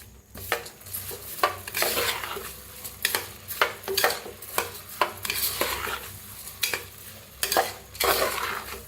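Washed rice being stirred into oil-roasted spices in a pan, with a steady close-up sizzle under repeated rhythmic spoon scrapes and clatters against the metal, and no talk.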